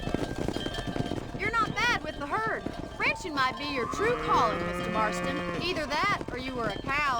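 A cattle herd mooing in the video game Red Dead Redemption during a ranch drive, with several low lowing calls repeating over steady hoof and movement noise, mixed under speech.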